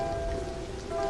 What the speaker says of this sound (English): And the rain comes down so hard.